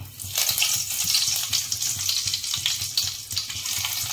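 Curry leaves crackle and sizzle steadily in hot oil for a Malvani-style clam curry, a loud, continuous broadband hiss with no talking.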